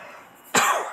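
A single sharp, close cough from someone sick with the flu, cutting in after quiet low talk.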